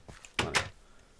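A door placed in Minecraft gives two quick wooden clunks close together, short and crisp against a quiet background.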